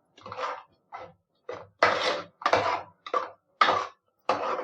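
Fresh green peas stirred and fried in a pan over a low flame for tomato rice. Close, about eight separate scraping strokes of a spatula against the pan come in an uneven rhythm with short quiet gaps between them.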